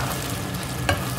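Blended tomato and onions stirred in a hot pan, a close, continuous sizzle with a sharp utensil knock near the end.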